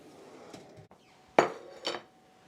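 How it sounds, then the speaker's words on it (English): A mixing bowl is set down on a kitchen counter, giving two close clattering knocks about half a second apart over faint room noise. "Bring my mixing bowl in."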